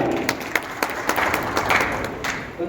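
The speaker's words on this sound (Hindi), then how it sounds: "जोरदार तालियां।" Audience applause at a souvenir booklet release ceremony, a scattering of crisp individual claps over a softer bed of clapping, moderately close and brief.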